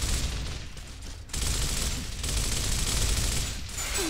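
Continuous gunfire in the video game Gears of War, a dense, loud roar of rapid shots with a brief break partway through and no talking.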